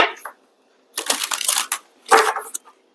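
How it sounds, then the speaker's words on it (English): Tarot cards are shuffled by hand in quick bursts of crisp, papery riffling, three separate close rustles with short silences in between. "One last shuffle."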